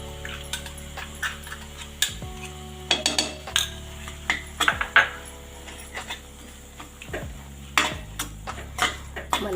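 Dal makhani masala with cream added is stirred in a pan, giving repeated metallic spoon clinks and scrapes over a low hum and a soft bubbling bed, close and irregular.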